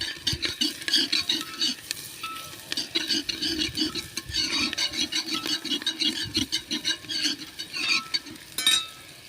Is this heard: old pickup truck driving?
no